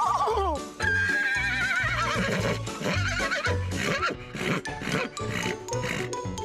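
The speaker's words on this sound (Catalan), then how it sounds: "Realment aquests cavalls són molt tranquils, ja ho veieu." Horses at a Three Kings parade in Vilanova i la Geltrú whinny loudly and close, with several wavering neighs in succession over a busy crowd and street background, and hooves clop now and then.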